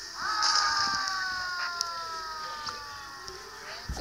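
A synthetic fire engine siren from the city-building video game City Mania wails in long, steady, slowly falling tones, fairly loud, with faint background noise and a few small clicks.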